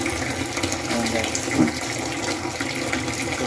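Water runs steadily from a newly installed tap in an old warehouse being converted into a car wash house, a close, continuous splashing rush with no break.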